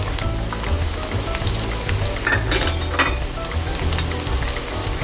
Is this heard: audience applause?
no